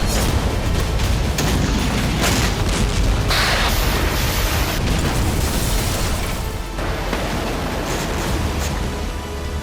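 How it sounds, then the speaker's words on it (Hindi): Heavy bombardment pounds the Izmail and Reni ports in the Odesa region, a loud, continuous roar of booming blasts and rumble with sharper bursts standing out, and no voices. "रूस ने एक बार फिर ओडेसा के इस्माइल और रेनी पोर्ट पर जबरदस्त बमबारी की"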